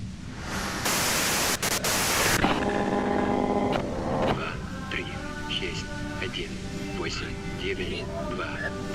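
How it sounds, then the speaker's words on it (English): Radio static in Disco Elysium, a burst of loud hissing white noise cutting in and out over the first few seconds before giving way to talking voices and music-like tones. "you can do it through the white noise."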